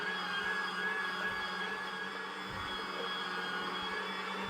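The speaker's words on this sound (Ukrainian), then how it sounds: "І зараз будемо перемолимо на м'ясорубку це." A steady electric meat grinder motor whirs at moderate level with a constant hum, running continuously as it grinds peppers and garlic, with faint rattling underneath.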